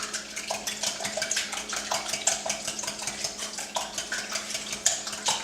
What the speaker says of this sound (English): I'm just mixing the spices into the eggs, and I'm breaking up the yolks so that everything has a nice even mix.